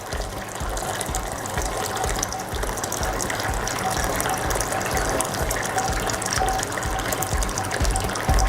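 Hot water at 75 °C pouring steadily over malted grains to rinse them during beer brewing, a constant close gushing splash with no pauses.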